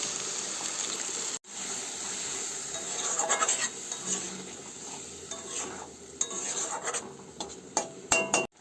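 Egg curry sizzling in a pan just after a little water is added, with a steady hiss, a brief cut near the start, and repeated scraping and clinking of a spatula stirring against the pot.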